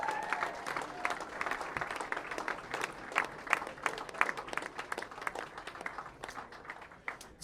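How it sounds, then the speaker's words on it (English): A crowd at a junior bowling stepladder finals applauds the U15 Developmental Team USA, dense continuous clapping from many hands that holds steady throughout with no talk over it. "Let's give a big round of applause to our U15 Developmental Team USA."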